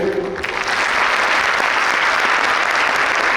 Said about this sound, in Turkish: her biri için güçlü bir alkış rica edeceğim